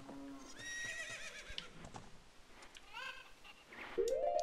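Horse in the video game Zelda Ocarina of Time, with several whinnying neighs rising and falling over a game soundtrack and ambience, fairly clear in the foreground.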